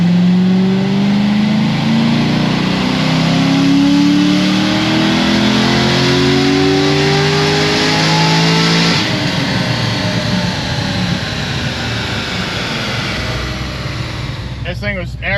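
A stage 5 Corvette C6 Z06 V8 on a chassis dyno climbs in a loud, rising wide-open-throttle pull, peaks and then drops to a rough, burbling decel, with a few sharp clicks at the end.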